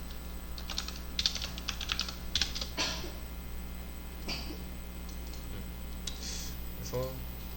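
Bursts of clicky keyboard typing, close and uneven in rhythm, with short pauses between runs of keystrokes over a low steady hum.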